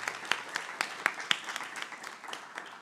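Scattered, fairly faint applause from a small audience at a live-streamed Indalo Inclusive NPC event, with distinct individual claps spaced out across a few seconds.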